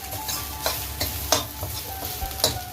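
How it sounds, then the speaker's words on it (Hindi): Grated carrot cooks in homemade cow ghee over low heat, with a steady close sizzle and repeated scraping stirs of a spoon against the pan every half second or so. "घी में पका रहे हैं इसको अभी, और घी में पकाते हुए देखो अच्छी सुगंध आ रही।"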